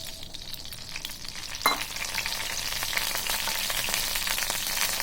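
Oil goes into a pan on a gas stove before mackerel is fried, a steady hiss that jumps with a sudden splash and crackle partway through, then settles into a loud, even sizzle.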